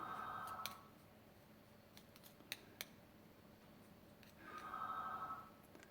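A telephone rings in the background of a quiet room during a watercolor painting demo on rice paper: two bursts of electronic trilling several seconds apart, with faint clicks and tapping between.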